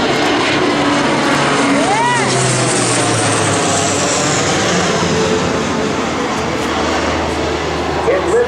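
A Lockheed C-130J-30 Hercules turboprop flies past at an airshow, its loud, steady propeller and engine roar filling the whole stretch with a slow Doppler sweep as it passes, while an announcer talks over it.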